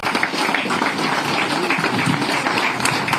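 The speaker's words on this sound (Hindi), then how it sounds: "सभागार में उपस्थित सभी का अनुरोध है कि तालियों का सिलसिला रुके ना पाए" Steady, dense applause fills an auditorium at a Kargil Vijay Diwas ceremony, a continuous wash of clapping from a large crowd that holds at an even level throughout.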